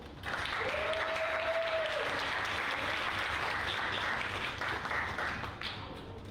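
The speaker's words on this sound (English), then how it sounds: "So let's give him a round of applause." Audience applause at an award ceremony, a steady wash of many hands clapping that holds from start to end and eases slightly near the close, with no talk over it.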